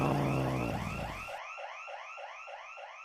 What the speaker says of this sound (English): He was detected, and the alarm went off.